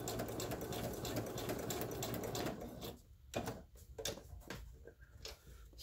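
A sewing machine runs a straight stitch at 3.5 length through paper, a fast steady mechanical chatter that breaks into short separate bursts and clicks toward the end.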